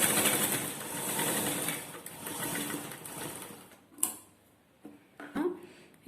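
A tailoring sewing machine stitches fabric in a steady close whir that runs for a few seconds, then stops, leaving a few sharp clicks and handling knocks in a quieter room.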